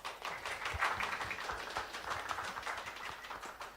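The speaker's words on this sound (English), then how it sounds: "Can we just clap for Nick?" Audience applause for a panel speaker at a British Council creative livestream event, a steady crowd clapping with dense overlapping claps sustained throughout at moderate level.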